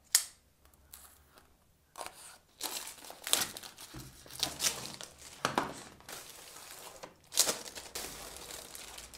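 Packaging for an iPad keyboard case is unwrapped up close: scattered crinkles, rustles and sharp tearing bursts come in uneven bunches over several seconds, with no talk.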